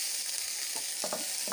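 Chopped tomato sizzles steadily in a hot pan for egg masala Maggi, a continuous bright frying hiss with a few soft stirring knocks near the end, close and with no voices.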